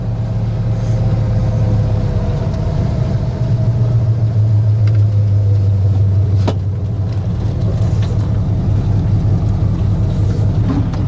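A neglected 1967 Lincoln Continental, left sitting for 29 years, drives along with its engine droning low and loud, a steady close rumble that shifts pitch partway through.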